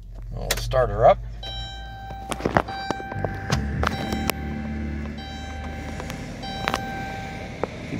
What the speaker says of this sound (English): We'll start her up.